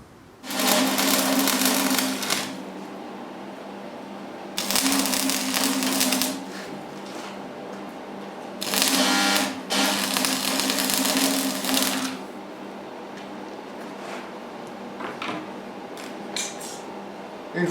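Arc welding pieces of a Damascus blade clamped in a vise, in bursts of loud, close crackling and buzzing, three long bursts separated by quieter stretches.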